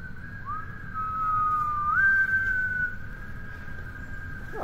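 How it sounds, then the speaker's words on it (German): Wind whistles through gaps aboard the Finnlines ferry Finnstar on an icy crossing from Helsinki, one sustained tone that wavers and steps up in pitch, over a low rumble of background noise. "Oh, hier pfeift schon der Wind durch."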